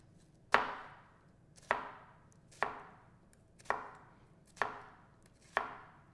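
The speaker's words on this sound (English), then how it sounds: "then we cut them into cubes. So, slice, slice, slice." Six loud, evenly spaced knife chops strike a cutting board, a sharp knock roughly every second as food is cut into cubes, close up with no talking.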